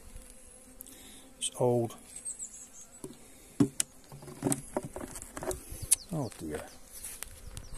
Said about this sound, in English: I don't think there's enough bees in there for to look after her.